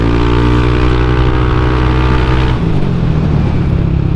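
Loud, steady engine drone of a Yamaha Aerox 155 VVA scooter on a test ride, continuous and close with a slight drop in pitch partway through, wind roar mixed in and no talking.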